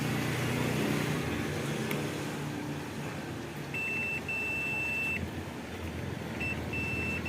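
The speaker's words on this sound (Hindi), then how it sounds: "बीप की साउंड सुनाई दे रहा होगा।" A multimeter's continuity buzzer sounds a steady electronic beep in a few short bursts over a constant low hum, testing a shorted 5-volt regulator on an LED TV motherboard.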